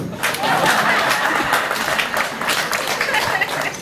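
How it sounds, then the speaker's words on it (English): Audience applause at an anti-corruption campaign event, a dense steady wash of clapping from a crowd with scattered chuckles mixed in, holding at an even level throughout. "You may clap."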